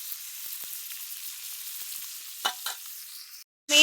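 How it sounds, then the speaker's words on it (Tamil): Fish frying in hot oil, a steady soft sizzle with a few louder crackles near the end before a brief silence and a sharp burst. "மீனை பொரிச்சாச்சு, அழகா சூப்பராக பொரிச்சுட்டேன்"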